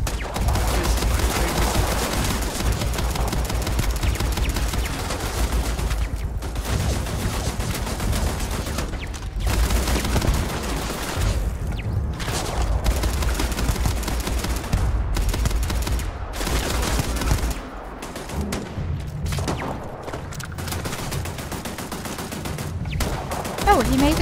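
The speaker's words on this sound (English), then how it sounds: "I think it's the turret that's actually getting me." Sustained turret gunfire in Starfield, dense rapid bursts of shots that keep going almost without a break for over twenty seconds amid other game combat noise, loud and close.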